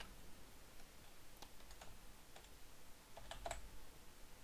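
A few soft clicks of typing on a computer keyboard, entering a serial number into a search box, faint and sparse against a quiet room hum.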